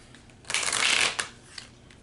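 A single quick riffle of a card deck, crisp and close, lasting about a second and followed by a faint tap as the cards settle.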